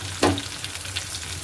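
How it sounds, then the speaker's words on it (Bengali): Onion, tomato and grated garlic frying in hot oil, a sharp burst of sizzle as they hit the pan, settling into a steady crackling hiss with a low hum underneath. "তেল গরম হয়ে গেছে, পেঁয়াজ দিয়ে দেবো, দিয়ে দেবো টমেটো, এবার দিয়ে দেবো রসুন গ্রেট করে নিয়েছি সেটা"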